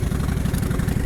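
A Honda VTX1300 cruiser motorcycle's big V-twin engine chugs at low revs in second gear while riding, a steady, loud, deep pulsing throb with a lazy rhythm like a locomotive, heard alone.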